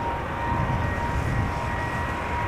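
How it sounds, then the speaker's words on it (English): A KLM Boeing 777-200 airliner, about 19 years old, departs Amsterdam Schiphol on a flight to Las Vegas. Its engines give off a loud, steady, broadband roar with no breaks or voices. "KLM flight 635 to Las Vegas, 777-200 19 years old, first flight September 2004."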